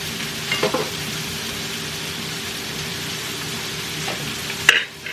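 Fries sizzle steadily in a pan on a home stove, a continuous hiss with a few brief stirring scrapes and clinks near the start and end.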